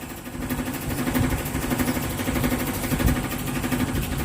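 A Dynamark engine runs close by with a steady, rough mechanical drone that swells slightly as the throttle is worked, with no voices over it.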